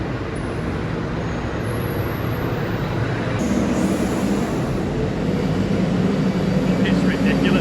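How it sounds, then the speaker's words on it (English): A 12-ton Merlo telehandler loads a farm wagon with its bucket, its diesel engine holding a steady, loud mechanical drone that runs unbroken throughout. "It's Johnny here, his 12-ton Merlo. He's going to load this wagon in 4 buckets"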